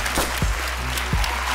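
Audience applause fills a short stretch at a televised stand-up comedy show, a steady broadband crowd clatter with a few low thumps, fairly loud and without talk.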